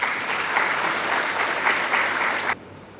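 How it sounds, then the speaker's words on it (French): Audience applause at a university cooperation day ceremony in Dakar, steady dense clapping from a hall crowd for about two and a half seconds, then cutting off abruptly into quiet room tone. "le professeur Abdoulaye Diouf, sous vos applaudissements s'il vous plaît."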